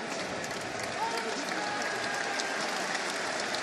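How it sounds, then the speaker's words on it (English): Basketball arena crowd applauding a player after a knee injury in an NBA game against the Atlanta Hawks: sustained, dense clapping from a large audience, with faint voices mixed in. "And here's the applause"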